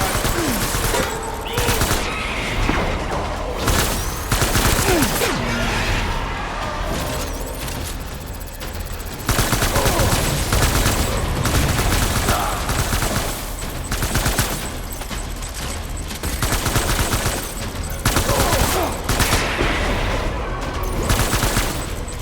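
Sustained in-game gunfire from Death Stranding, dense bursts and rapid volleys running almost continuously at high loudness, layered with game effects and occasional voices.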